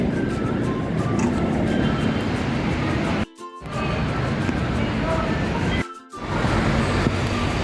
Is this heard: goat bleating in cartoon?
no